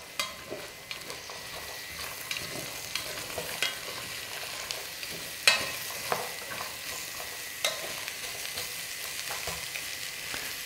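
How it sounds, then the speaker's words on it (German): Celery and onion sweating in oil in a pot over a low flame, a soft, steady sizzle with scattered light crackles and a few sharper pops or stirring clicks, close and without speech. "Man hört jetzt schon, es beginnt zu brutzeln"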